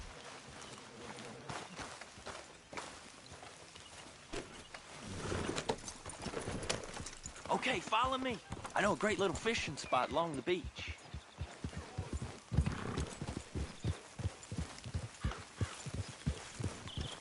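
Steady clip-clop of horse hooves at a trot in Red Dead Redemption 2, close by, running under a man's speech and continuing after he stops.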